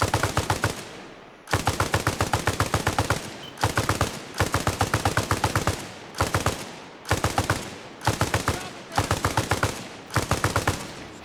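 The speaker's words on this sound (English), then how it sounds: "That's enough shooting." Machine gun suppressive fire in the video game Arma Reforger comes in repeated long, loud rapid-fire bursts separated by short gaps, with no talking.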